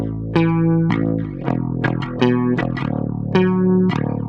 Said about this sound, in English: Here's the Universal Audio MXR flanger with EQ rolling off the lows so the stereo flange gets the